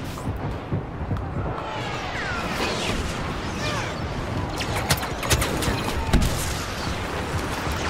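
Sniper rifle fire in Star Wars Battlefront, a dense game soundscape of blaster shots, mechanical clatter and sharp cracks that grow louder toward the end, with a person talking over the action.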